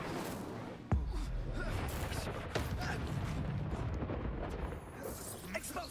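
A spell blast in Hogwarts Legacy, a sharp explosive boom followed by a dense, rumbling wash of magical combat effects, with speech partly audible in the mix.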